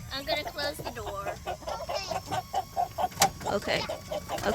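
Hens cluck repeatedly and busily close by, with scattered rustling and faint voices in the background.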